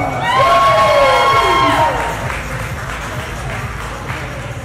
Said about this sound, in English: contestants a big round of applause.